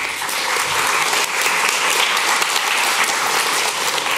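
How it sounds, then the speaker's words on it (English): Sustained audience applause fills a conference hall, dense and steady throughout, welcoming a speaker to the stage at an indie game design talk. "And a warm applause for Jan Willem from Vlambeer"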